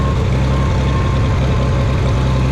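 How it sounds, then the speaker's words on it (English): A John Deere tractor engine runs close by with a steady, heavy low rumble and a slightly uneven tone throughout, with no talking. "Tractor still sounds a little iffy."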